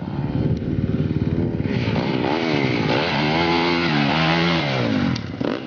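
A water-cooled, fuel-injected TM MX250Fi 250cc four-stroke motocross engine runs steadily at close range, its loud, raspy drone rising and falling in pitch through several revs, with no talking over it.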